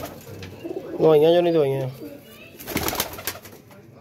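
Pigeons at a loft give a clear, close throaty coo lasting about a second, followed by softer rustling and fluttering while someone talks nearby.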